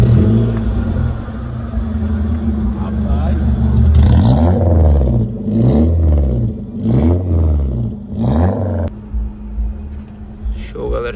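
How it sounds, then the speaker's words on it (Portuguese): A Peugeot 306 Rallye engine cranks and catches, then revs in several loud, evenly spaced bursts before settling to a rough idle, close to the car. "Vamos dar uma partida aqui no bicho."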